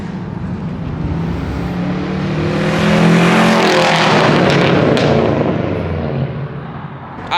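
A straight-piped Subaru STI does a flyby, its raspy boxer exhaust growing louder as it nears, peaking with crackling pops, then fading away as the car passes.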